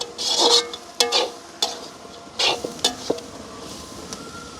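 Onions for egg kothu are stirred while they sauté in a pan, with scattered scrapes and clinks of the utensil against the metal over a low, steady sizzle.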